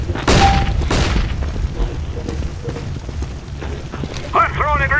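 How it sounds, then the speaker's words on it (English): A flashbang grenade goes off in Counter-Strike: Global Offensive with a loud booming burst and several following thuds, while voices chatter over the game sounds. "I'm throwing a flashbang."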